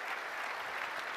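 Audience applause at a Google I/O keynote, a brief burst of steady clapping from a large hall, fairly faint and distant.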